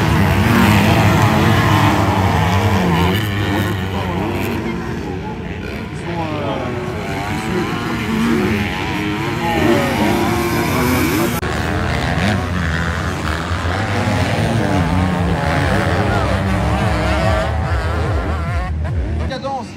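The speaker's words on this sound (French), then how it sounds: "On va partir aux essais libres, les motos viennent de partir" Racing motorcycles scream around the track during free practice at a French championship final, engines loud and continuous with shifting pitch as bikes pass, under steady talk.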